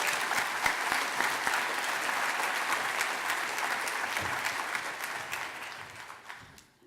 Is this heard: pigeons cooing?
no